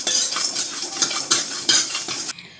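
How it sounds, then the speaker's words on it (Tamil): Coriander seeds, pepper, cumin, rice and fenugreek dry-roast in an empty kadai without oil, a loud, close rattling scrape of a ladle tossing the seeds in quick strokes that stops abruptly near the end. "வெறும் கடாயில் போட்டு நம்ம வறுத்துக்கலாம்."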